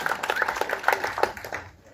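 An audience claps steadily and densely for a local ward representative at a fundraising gathering, the applause filling the space before fading out at the end.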